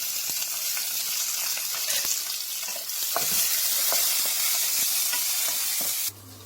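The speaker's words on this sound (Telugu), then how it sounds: "అది వేడైన తర్వాత పచ్చిమిరపకాయలు వాటిలో వేయించుకోవాలి." Green chillies fry in hot oil with a steady, close sizzle and occasional crackles and stirring clicks, the hiss cutting off abruptly near the end.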